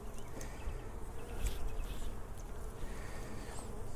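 Honeybees buzz in an opened hive beneath a ventilated screen inner cover, a dense steady hum of many insects close by with occasional louder fly-past whines.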